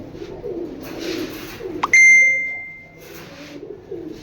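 Long-distance racing pigeons with pomegranate-coloured eyes give low, murmuring coos close by, and a single sharp bell-like ding rings out and fades midway.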